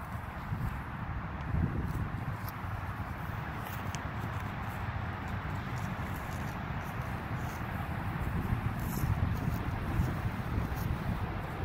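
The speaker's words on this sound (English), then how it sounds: "The wind is picking up" Steady outdoor wind blows throughout, a continuous low rushing buffeting the microphone with faint rustling and no speech, during outdoor disc golf testing.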